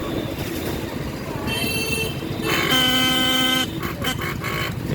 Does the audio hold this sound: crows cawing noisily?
no